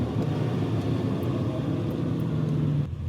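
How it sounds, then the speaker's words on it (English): A Ferrari 275 GTB two-cam V12 runs at a steady, loud, droning pitch, holding one even tone for several seconds before cutting off abruptly near the end. "Nothing like a V12 Ferrari when it's all on song and it's all sorted."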